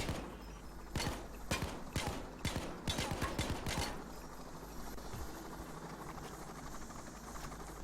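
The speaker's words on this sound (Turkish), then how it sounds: "Aha helikopter geliyor valla." In the video game Payday 2, rapid bursts of sharp percussive shots in the first few seconds, then a steady whirring helicopter rotor drone continues alone at moderate volume.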